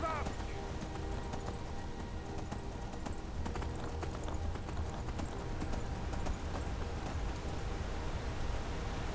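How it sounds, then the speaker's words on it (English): Horse hooves galloping in the video game Skyrim, a steady clip-clop running through the whole stretch over a dense game soundscape, with a brief whinny near the start. "This horse can't run very far."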